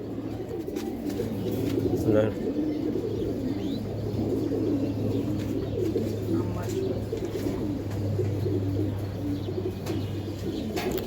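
A pair of Shira pigeons, flying pigeons on a farm, coo in a low steady murmur throughout, with a few brief chirps and a constant hum in the background.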